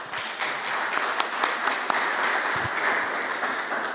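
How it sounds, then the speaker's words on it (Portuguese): Church congregation clapping in praise, a dense, steady applause with individual sharp claps poking through, fairly close and lasting the whole few seconds without speech. "Vamos aplaudir Jesus?"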